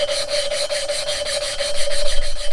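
An engine valve is hand-lapped against its seat with abrasive grinding compound, making a loud, close, gritty rubbing that pulses back and forth in a rapid steady rhythm with no talking.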